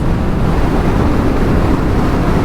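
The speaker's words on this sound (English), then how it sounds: "we are feeling a little bit of wind blast" Wind roars across the microphone of a 2025 BSA Goldstar Legacy Edition motorcycle on the move, a loud, constant low buffeting rush with no break.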